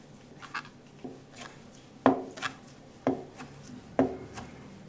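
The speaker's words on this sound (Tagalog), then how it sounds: "Next, hiwain na natin to." A knife slices through deep-fried food on a chopping board, giving a few soft scrapes followed by three firm, evenly spaced cuts that knock against the board up close.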